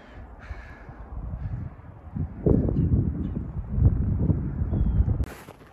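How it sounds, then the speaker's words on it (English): Crow cawing outdoors near a creek on an overcast day, a few rough calls rising over faint wind noise, fairly close and moderately loud, with no talking. "Yeah, it's just a crow."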